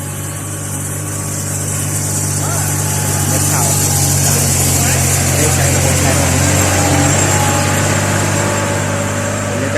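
A Thai-made dry rice seeding machine's engine runs at a steady, loud drone with a constant low hum throughout, close by and unbroken.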